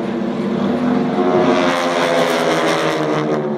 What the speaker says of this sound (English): Watch for the airplane on the right to slide back into the diamond position.